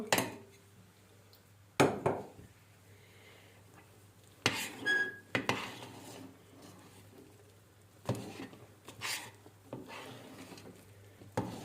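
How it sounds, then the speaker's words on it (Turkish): Dough being stirred in a pot on a stove over low heat for a Turkish malak köle dough, with a few scraping, clinking knocks of the spoon against the pot, fairly close, separated by quiet stretches. "Ocağımızın altını kıstık hafif ve hamurumuzu bir karıştıralım."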